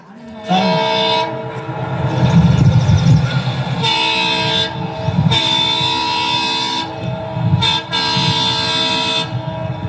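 An express train rolls past with a heavy, close rumble while its horn sounds in several long blasts, some sustained and some clipped short, over about ten seconds.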